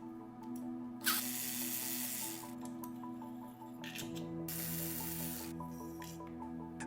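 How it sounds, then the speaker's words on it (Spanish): Bolts come out of an electric motor housing in two separate bursts of loud, whirring, rasping mechanical noise, with a quieter steady hum and small clicks between and after them. "Ahora quitamos todos los pernos que cierran la estructura."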